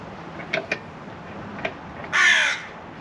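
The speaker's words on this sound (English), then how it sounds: "We've got a nice crow in the background giving us some noise and attitude." A crow caws behind a Ferrari being shown off, with a few short, faint calls early on followed by one louder, harsher caw near the end, all fairly distant.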